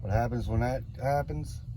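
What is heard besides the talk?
None of the usual background noises is heard.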